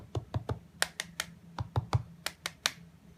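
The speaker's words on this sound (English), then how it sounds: "when you unclick it and click it, it's going to make a lot of noise" A quick series of sharp plastic clicks and snaps from a Kydex knife sheath, irregular and close, some in tight clusters, with no talking.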